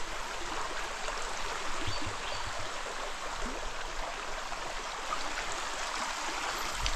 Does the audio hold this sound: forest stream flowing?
yes